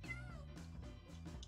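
In Minecraft, a cat-like meow from the game plays as a few short, drawn-out, clear mewing calls, close and distinct in a quiet background.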